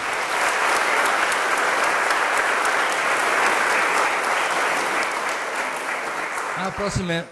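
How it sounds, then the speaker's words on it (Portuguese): Dense, steady audience applause fills the room at a book launch, holding level for several seconds before tapering off as a voice begins speaking at the very end. "Muito obrigado e uma salva de palmas."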